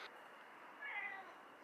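A house cat that has just brought in a mouse lets out a short, faint meow in a dim indoor space, alone over a steady low hiss.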